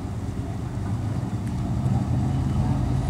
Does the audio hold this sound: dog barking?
no